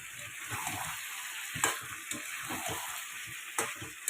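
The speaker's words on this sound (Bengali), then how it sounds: "এবার আলুগুলো দিয়ে দিলাম এবার নাড়বো" Potatoes being stirred into braised chicken in a pan, a steady frying sizzle under repeated scraping and turning strokes from a spatula, with a few sharper clinks.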